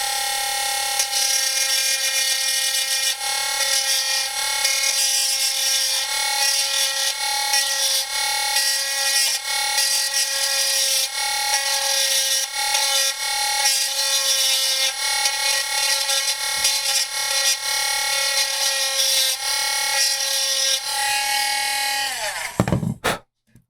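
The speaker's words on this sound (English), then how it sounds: "It's protruding a little bit out of the foot, so I want to grind that down some." A small rotary tool grinds down the broken, protruding part of a plastic Triceraton action figure's foot with a steady, loud, high-pitched whir that runs unbroken and then cuts off at the end.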